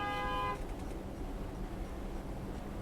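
A truck horn in New York traffic gives one loud, sustained blast lasting about half a second, then only road rumble from passing traffic remains.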